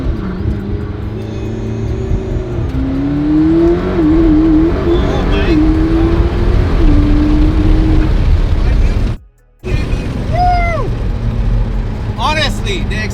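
A McLaren P1 accelerates hard with a loud, close engine roar whose pitch climbs and wavers through the gears, briefly cuts out, then resumes amid excited vocal exclamations.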